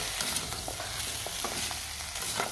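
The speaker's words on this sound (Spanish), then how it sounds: "En un recipiente aparte pondremos a freír con poquita aceite, una cebolla y 5 ajos partidos a la mitad." Onion and halved garlic cloves frying in a little oil, a steady crackling sizzle with soft occasional stirring taps, close and continuous with no voices.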